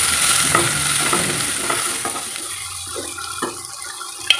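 Loud hissing sizzle of ingredients for mushroom curry frying in a pan with spice powder and salt, with stirring scrapes and a few clatters, fading slightly toward the end.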